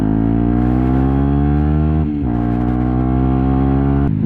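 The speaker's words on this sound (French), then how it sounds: "Et le bruit il est juste magnifique de cette moto." A 125cc WRX motorcycle with an Arrow exhaust, decatted but still fitted with its baffle, revs loudly up close, a harsh buzzing engine note that climbs steadily, dips briefly, then rises again.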